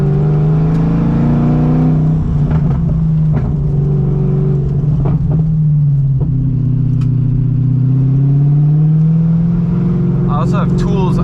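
A straight-piped BMW E30 with a swapped M60 V8 drones loudly and steadily from close by, its exhaust note swelling and dipping in pitch as the revs rise and fall.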